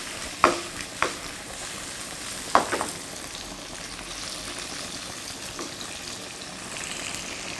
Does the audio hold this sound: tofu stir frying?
yes